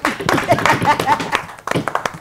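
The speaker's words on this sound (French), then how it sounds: "applaudissez pour mes artistes" An audience at a club night claps for the performing artists, a burst of uneven, close hand claps mixed with voices calling out, fading briefly before a second flurry of claps.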